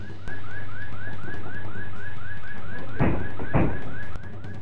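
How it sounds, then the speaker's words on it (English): A burglar alarm system sounds loud and near, repeating rapid rising electronic whoops at a steady pulse, with two heavy thuds striking partway through before it cuts off. "Once inside, they triggered the alarm system"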